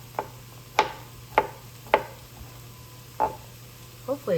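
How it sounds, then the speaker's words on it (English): A knife chops garlic on a cutting board in a home kitchen, about seven sharp, separate knocks spaced unevenly over a low steady hum. "So I'm chopping up this garlic a little bit here."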